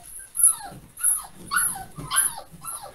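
A dog whimpers and howls in a series of five rising, wavering cries spaced about half a second apart, close and clear, with no talk over them.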